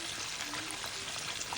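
Chicken fries in oil in a pan on a home stove, giving a steady, close, continuous sizzle and crackle with no talking.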